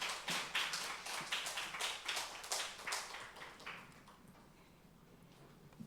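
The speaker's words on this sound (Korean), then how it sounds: "귀한 방문에 감사하는 마음을 담아서 환영의 박수로 맞이하겠습니다." A church congregation at a Wednesday evening service claps in welcome for a guest speaker, a dense burst of applause that fades out over the last couple of seconds.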